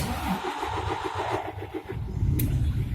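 A DAF Euro 6 truck engine cranks with a rapid, rhythmic starter chug for about two seconds, then catches and settles into a steady, low running rumble, recorded close by.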